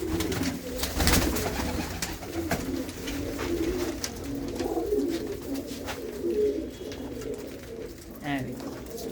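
Pigeons coo in a fort from the Maharaja Ranjit Singh era, with soft low rolling calls that continue throughout amid background murmur and occasional knocks.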